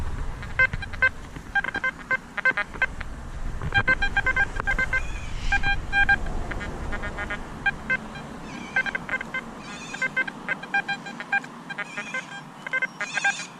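An XP Deus metal detector sounds repeated short electronic beeps and tones in a steady, busy rhythm while sweeping over trash-laden park ground, with faint bird calls and outdoor ambience behind.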